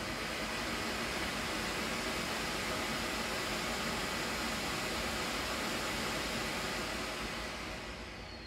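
A Dyson Air Pure Cool TP00 fan running on setting 2 gives off a steady, even airflow hiss that stays constant and close throughout, easing slightly at the very end, with no talking.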